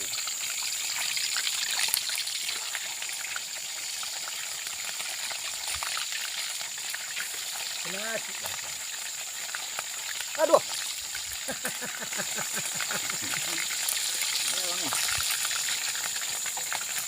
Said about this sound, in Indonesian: Minyak kita sudah panas, langsung aja kita masukkan ini ikannya ini.